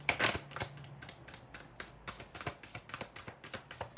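Oracle cards being shuffled by hand, a steady run of soft papery riffles and taps repeating roughly every half second, close and fairly quiet with no talking.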